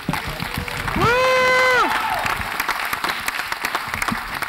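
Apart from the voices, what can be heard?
audience applause for Paul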